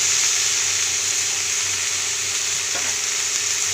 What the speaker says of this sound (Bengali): এর মধ্যে এবার আমি কড়াইশুঁটি আর ডাঁটা দিয়ে দেবো।